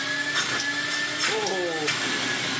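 A restored vintage Kenwood A640 cylinder vacuum cleaner runs with a steady, fairly loud whirring roar under a voice.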